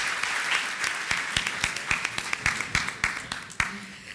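Audience at a national mining congress applauds conference panelists, a steady patter of many hands clapping with sharp individual claps standing out, fairly close and continuous before tapering off.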